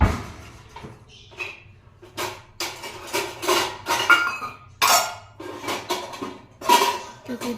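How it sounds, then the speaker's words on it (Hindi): Dishes, pots and utensils being washed in a home kitchen, with loud irregular clatters, clinks and knocks of metal and crockery close by, and a faint steady hum underneath. "फिर दिन के बर्तन रखे हुए थे, फिर उन्हें सफाना होता है चाय के बाद मुझे।"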